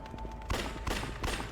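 Rapid bursts of gunfire in the Yakuza: Dead Souls video game, three dense volleys about a third of a second apart, loud and continuous with no talk.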